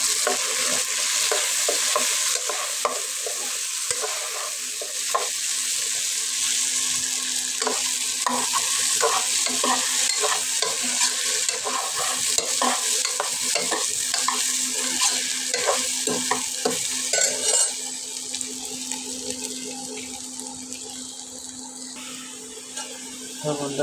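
Potatoes fry in a pan with salt and turmeric while being stirred repeatedly, a steady sizzle close by with a rapid run of scraping spatula strokes and a constant hum beneath.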